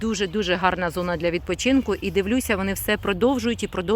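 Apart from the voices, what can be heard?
No everyday noise stands out behind the speech.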